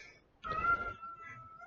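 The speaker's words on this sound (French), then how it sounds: "Je suis toute seule avec les minettes à la maison qui miaulent" Pet cats meow at home while playing together, a close, fairly loud rising cry in the middle of a quiet indoor room, followed by a softer trailing tone.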